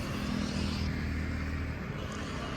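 A truck engine runs steadily with a low rumble, the vehicle moving off on a highway drive from Kolkata to Bengaluru at night, the sound continuous and fairly loud throughout.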